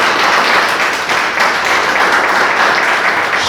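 A church congregation breaks into steady, dense applause during a Spanish-language sermon, a loud, even wash of many hands clapping together without a break.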